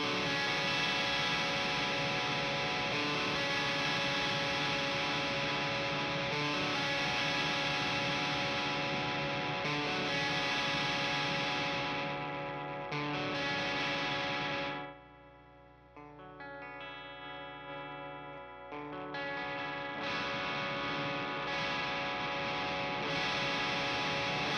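A Squier Hello Kitty Stratocaster electric guitar plays loud, dense chords through heavy distortion, with a brief quieter, thinner passage midway before the full driven sound returns. No one speaks.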